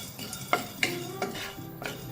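Urad dal and fennel seeds roast in a pan over the flame, heard as a few light clinks and scrapes of a utensil stirring them, with a soft background hiss, brief and moderately quiet.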